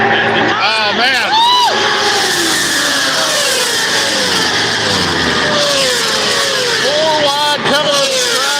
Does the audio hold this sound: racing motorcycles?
yes